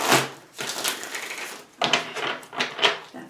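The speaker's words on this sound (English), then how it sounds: "I have shuffled these plenty before the camera was turned on, but I will shuffle a couple more times" A deck of tarot cards is shuffled up close in several short, crisp bursts of riffling and flicking, with brief pauses between them.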